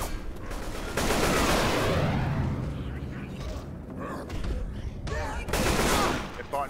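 Gunfire in the zombie shooter Left 4 Dead 2, with bursts of rapid shots and rattling fire in a dense barrage over several seconds and loud surges near the start and end. Voices can be heard in the mix.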